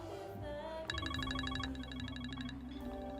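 An electronic phone ringtone, a quick run of pulsing beeps lasting about two seconds over a low steady hum.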